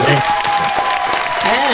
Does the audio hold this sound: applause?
yes